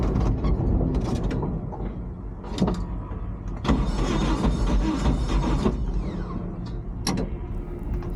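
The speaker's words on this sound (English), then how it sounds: "I tried turning it over just one more time to confirm what I thought I had heard on track: a dead cylinder" A race car with a dead cylinder cranks over after losing its motor on track, a loud mechanical churning in uneven bursts that stops and restarts several times, with no voices.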